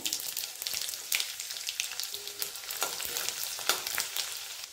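Mustard seeds, cumin and finely chopped garlic frying in hot oil, a bright continuous crackling sizzle with sharp pops and spatters throughout, close and fairly loud with no voices.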